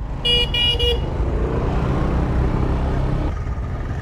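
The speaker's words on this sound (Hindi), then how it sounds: "ट्रैफिक तो देखो भाई, चलो।" Road traffic in Goa with a car horn tooting in a quick burst of three short honks at the start, then engines rumbling close by under a busy street hum.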